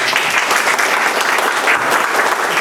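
An audience at a canoe makers' presentation claps steadily, dense applause from a crowd indoors, even and sustained throughout with no talk.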